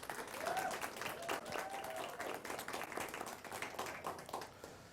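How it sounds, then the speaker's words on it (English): A school-district audience at a teacher of the year ceremony applauds eight teacher nominees with dense, steady clapping that holds throughout and eases slightly at the end, with faint voices underneath. "Let's give these 8 nominees a round of applause."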